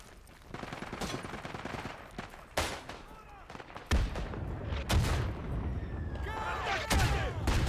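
Gunfire in the WWI shooter Isonzo comes as scattered sharp cracks and heavier booms, some near and some distant, building into denser firing partway through.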